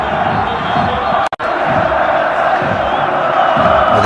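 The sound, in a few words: stadium crowd at football match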